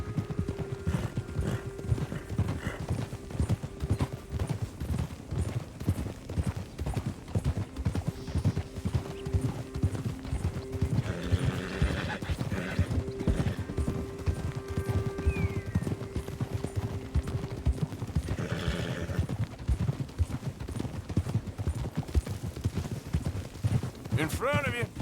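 A horse in Red Dead Redemption 2 gallops with a steady, driving clip-clop of hooves, with neighs breaking through partway. Game music plays underneath, and voices talk over the hoofbeats.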